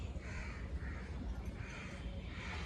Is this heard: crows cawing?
yes